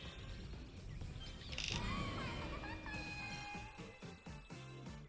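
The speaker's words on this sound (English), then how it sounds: "Wait, that bird had a rocket on it." In the Astro Bot video game, a bird wearing a rocket gives several chirping, squawking calls. The calls are layered over busy game music and effects, including a bright whoosh and rhythmic beats near the end.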